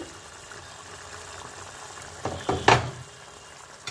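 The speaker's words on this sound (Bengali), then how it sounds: "ঝোলটা ফুটে এসছে" Spiced fish curry broth for rupchanda fish bubbling in a pot, low soft burbling with a brief louder gurgling splash near the end, close and alone.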